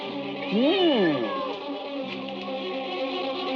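A cat gives one drawn-out, rising-then-falling meow up close, with a steady musical or film soundtrack continuing underneath.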